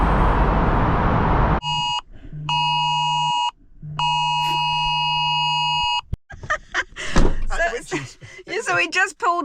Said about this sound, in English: our phones start going crazy with that warning